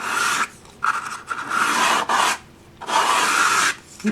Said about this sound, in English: just to take off any sharp edges and any splinters, ready for painting